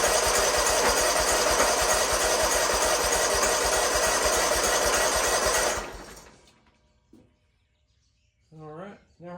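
A Kawasaki 19HP engine on a zero turn lawnmower cranks over with a loud, steady mechanical churn for about six seconds, then cuts off, leaving near silence broken by brief speech.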